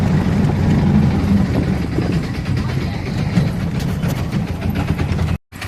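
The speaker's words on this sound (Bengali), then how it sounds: "বজবজ লঞ্চ ঘাটে নেমে আমরা এখন অটো করে যাচ্ছি বজবজ স্টেশনে" An auto rickshaw heads from the Budge Budge launch ghat to Budge Budge station, its engine a loud, continuous rattling drone with road rumble that briefly cuts out near the end.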